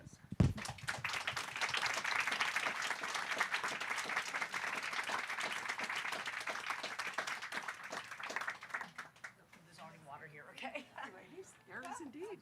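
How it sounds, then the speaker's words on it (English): Audience at a book event claps for arriving authors, a sustained round of applause lasting about eight seconds before fading, then a person speaks close by. "let's give them a round of applause"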